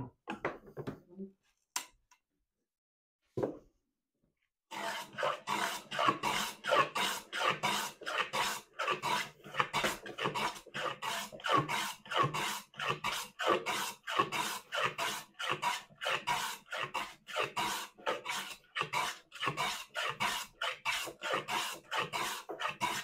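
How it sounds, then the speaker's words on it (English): A hand plane shaves a wooden panel in a long series of rhythmic rasping strokes, close and distinct, following a few isolated knocks and a short silence at the start. "So I have to keep planing until I'm down to this line."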